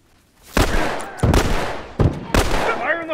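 Gunfire in The Last of Us multiplayer (Factions) comes as four loud, sharp shots or short bursts spaced across a few seconds, with a faint voice in between.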